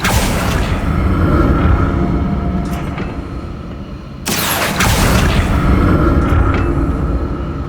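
A spell being cast in the Hogwarts Legacy video game: a dense, rumbling magical whoosh that surges loudly, briefly dips, then bursts back with a sharp broadband crack and keeps roaring under steady game ambience.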